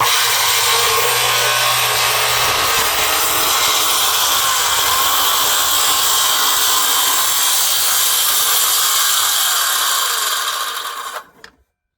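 Saw cutting wood for deck stairs, a loud continuous rasping cut heard up close, steady for about ten seconds before tapering off and stopping.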